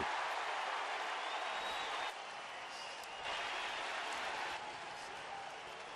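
Baseball stadium crowd on a Monday afternoon cheering as fans rise to their feet, a broad distant roar that holds steady, dips slightly midway, then swells again.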